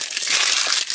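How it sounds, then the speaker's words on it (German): Plastic film peeled and crinkled off new figure packaging, a brief, loud, close crackling rustle. "erstmal ein bisschen Folie abfummeln"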